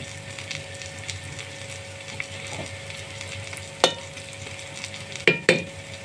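An omelette frying in a pan over a low flame gives a gentle, continuous sizzle close by, with a few sharp clicks and taps of a utensil against the pan toward the end.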